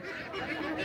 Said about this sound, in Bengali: বহু হাঁস দেখতেছি